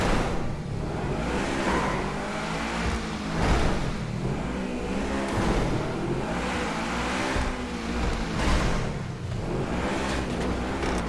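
A car engine in GTA, driving steadily with rolling rises and falls in pitch as it accelerates and eases off, loud and continuous with no talking.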